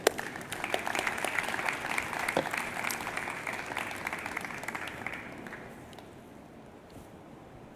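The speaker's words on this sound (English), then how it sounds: "let's give a round of applause for ourselves to change the future" Sustained, loud audience applause fills a conference hall at a mobile technology congress, dense and even for several seconds before tapering off toward the end.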